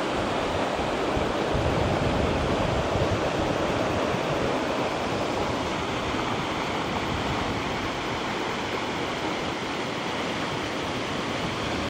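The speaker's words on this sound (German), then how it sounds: "Oha, Leute, ich bin oben auf dem Wasserfall." A New Zealand waterfall on the North Island, heard from the top, roars as a steady, dense, loud rush of falling water with no breaks, no voices and no other sounds over it.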